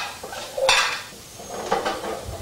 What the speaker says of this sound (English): when you're frying the trout